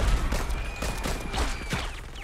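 Rapid bursts of gunfire in the Saints Row video game, a dense run of repeated sharp shots fired in quick succession, loud and close.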